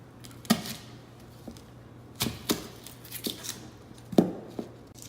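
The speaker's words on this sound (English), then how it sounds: "Now Chef Damien will cut our onion." A chef's knife cuts through an onion on a board while fried rice is being prepared: a handful of sharp, crisp chops and slices land in an irregular rhythm, close and fairly loud, with quiet pauses between them.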